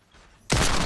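A Desert Eagle fires in the Fortnite video game. After a near-quiet moment, a loud, sharp shot bursts in close by and rings on with a broad, crackling tail.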